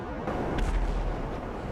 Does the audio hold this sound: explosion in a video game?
yes